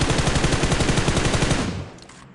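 Rapid automatic gunfire in PUBG Mobile, a loud sustained burst of closely spaced shots lasting about a second and a half, then dying away into quieter tail noise.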